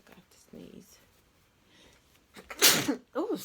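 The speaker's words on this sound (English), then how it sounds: "forgot to sneeze." A single sharp sneeze bursts out near the end after quiet breathing, followed by a short voiced exhale, captured close up indoors during a clothing haul.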